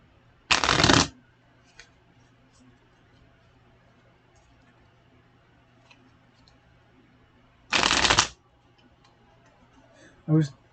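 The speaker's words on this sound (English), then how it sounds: "you're supposed to only shuffle 3 times" A deck of playing cards shuffled in two short, loud riffle bursts several seconds apart, separated by near silence with faint ticks, then a brief low thump at the end.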